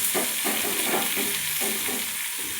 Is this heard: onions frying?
yes